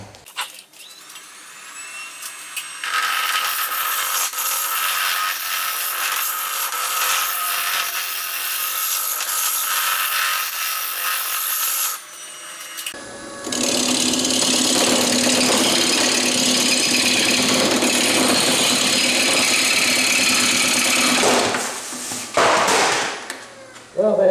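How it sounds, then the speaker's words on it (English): Wood lathe roughing a bowl blank with a chisel, a loud sustained whine and rough grinding that stops briefly midway, then resumes harsher and buzzing with vibration before cutting off near the end. "that's typical with the chisel going up against workpiece is going to cause a vibration"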